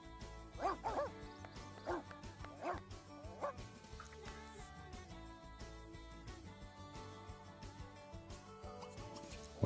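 A dog barks and yips in The Sims Pets video game: several short, clipped barks early on, mixed into constant game music that runs throughout.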